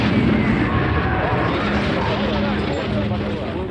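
A full-scale helicopter model is blown up with pyrotechnics as a film explosion, a dense, sustained roar that fills the clip at high loudness, with a voice audible within it.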